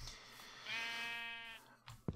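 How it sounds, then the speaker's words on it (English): A single Minecraft sheep bleats in the game, one wavering, drawn-out cry heard up close and fairly faint, followed by a couple of brief soft clicks. "Wow, there's more sheep than you can shake a stick at."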